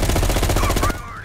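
Rapid automatic gunfire in Call of Duty: Black Ops Cold War, a loud, dense burst of evenly spaced shots that stops abruptly, leaving brief quieter game sounds.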